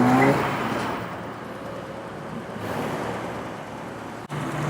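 Modern Ford Fiesta ST pulling away from a Sunday morning car meet, a rushing engine roar that swells and fades with wind noise, heard from a moderate distance.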